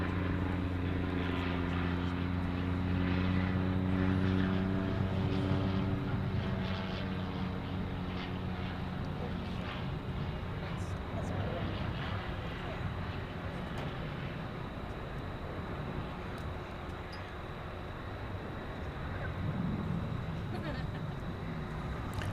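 Martin Air Flight 655, a Cessna Supercargo arriving at DFW airport from Tyler, Texas, gives a steady low propeller drone with harmonic tones early on, heard at a distance over continuous outdoor noise.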